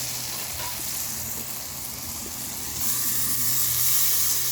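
Water goes into fried spice paste in a pan for a Bengali fish curry. A close, steady sizzle and hiss swells noticeably louder partway through and continues with no talk.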